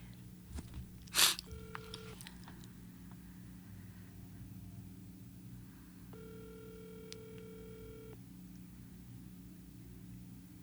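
A mobile phone call to David Matrenga's mobile, placed by voice assistant, rings out in two long electronic ringback tones with a pause between, over a steady low hum, after a brief burst of noise.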